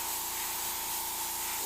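Steady airbrush spray of reduced paint used on a gold-leaf leprechaun skull, a continuous close, even hiss with no pauses.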